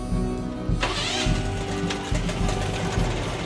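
Several stand-on skid steers start up together, their engines cranking and catching into a loud, rough, overlapping rumble that fills the scene at close range.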